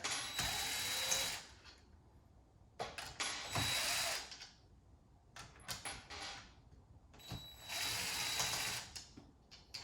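A power drill unscrews screws from a computer case, with repeated bursts of high whirring lasting a second or two each, separated by clicks and handling noises, close up with no speech.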